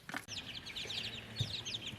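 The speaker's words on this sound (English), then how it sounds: "We got chickens." A flock of young chickens chirps and peeps continuously at close range, with a few low clucks and a brief knock near the start.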